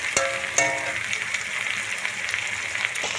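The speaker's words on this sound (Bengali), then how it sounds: "টমেটো কুচিটা দিয়ে দেব, দিয়ে আমি একটু ভাজার জন্য আবার ছেড়ে দেবো কিছুক্ষণ।" Chopped tomatoes and onion fry in a pan for a Bengali-style mutton curry, giving a steady soft sizzle with a couple of sharp crackles and pops near the start.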